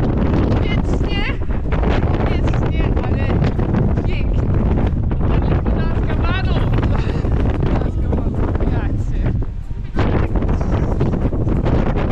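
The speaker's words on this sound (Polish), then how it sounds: "Nam trafiła się dość wietrzna pogoda" Strong winter wind on the sea cliffs at Arnarstapi, Iceland, buffeting the microphone with loud, constant roaring gusts that fill the whole stretch without pause.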